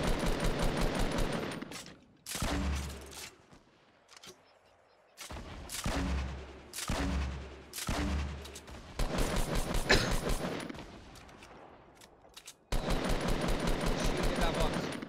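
Fortnite gunfire comes in loud, rapid automatic bursts separated by brief gaps, with sharp single shots mixed in, mostly up close, and a voice occasionally speaks over the shooting.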